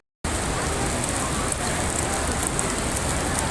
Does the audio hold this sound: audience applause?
no